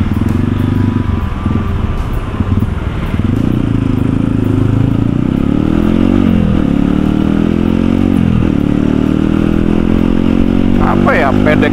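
Motorcycle engine with an older CDI unit running steadily on a hot-weather road ride, loud and continuous with rising and falling rev sweeps, while someone talks over it.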